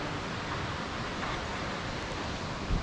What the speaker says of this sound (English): I can hear the waterfall louder here.